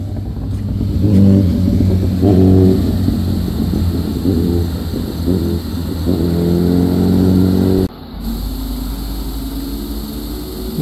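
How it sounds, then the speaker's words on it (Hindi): A group of superbikes, including a KTM and an RS, roars past on a mountain road in Himachal Pradesh, with loud engines revving and droning close by for several seconds before the sound cuts and shifts. "भाई पूरा बाइकर गैंग आ रहा है ना भाई, सब सुपर बाइक्स हैं भाई"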